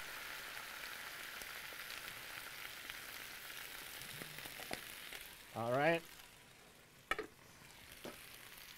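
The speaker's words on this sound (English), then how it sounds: "it should be sizzling" Steady crackling sizzle of goose frying in a pan, close and continuous, with a brief voice and a couple of clanks partway through.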